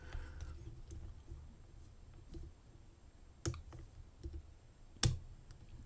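Small faint clicks from a lock pick working the pins inside a lock during advanced multipick lockpicking, scattered soft ticks with two sharper clicks standing out near the end, close and quiet with no talking.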